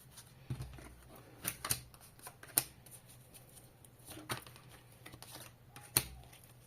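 Tarot cards being shuffled and drawn: quiet, close riffles and crisp flicks of cards, in short bursts separated by pauses, with no talking.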